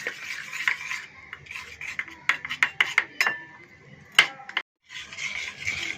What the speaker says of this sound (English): Now we are going to mix it properly in the milk so that there are no lumps left.